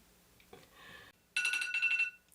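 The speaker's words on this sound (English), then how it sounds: "my timer's going off in my back pocket" A timer alarm sounds from a back pocket while soap dough is being shaped, a loud, steady electronic beeping burst after a quieter earlier chirp.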